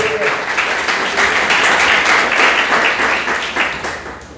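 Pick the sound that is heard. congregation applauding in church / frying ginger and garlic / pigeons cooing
congregation applauding in church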